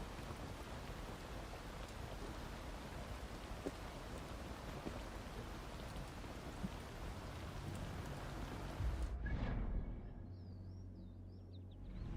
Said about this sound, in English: The rain is nice.